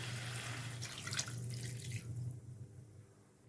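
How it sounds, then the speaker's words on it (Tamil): Water pouring into a pan of cauliflower and potato gravy, a soft continuous splashing and trickling stream for a few seconds that fades near the end, with no talking. "இதில் தண்ணி சேர்த்துக்கலாம்"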